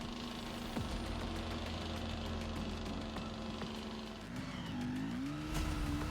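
Heavy timber truck engine groaning as it inches along a steep mountain road, a steady low drone with a rising, wavering pitch near the end.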